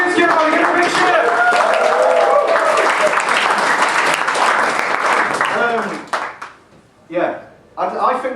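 Comedy club crowd applauding and cheering loudly and continuously for several seconds, then the noise drops away abruptly, with brief bursts of voices and laughter returning near the end.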